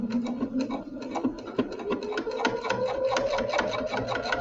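A sewing machine stitching down the front of a placemat made from a Dollar Tree dish mat and jelly roll fabric strips, a fast steady mechanical chatter running throughout, close and clear.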